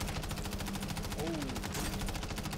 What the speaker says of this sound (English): getting shot at from right here